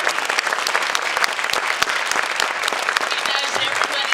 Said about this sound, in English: Y'all got to give him a big round of applause.